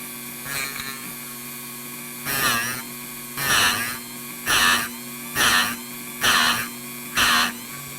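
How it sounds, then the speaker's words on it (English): Piston ring ends ground on a tool at medium speed to set the gap, with six short bursts of loud, high-pitched grinding repeated at a steady rhythm, separated by brief pauses under a constant low hum. "Just grind a little bit"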